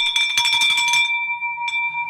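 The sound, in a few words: bell rung in celebration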